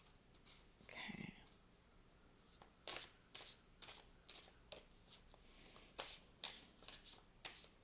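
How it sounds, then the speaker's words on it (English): Tarot cards being shuffled by hand: a series of quick riffling bursts in an irregular rhythm, close and fairly quiet, after a short softer rustle at the start. "Going to give it another shuffle."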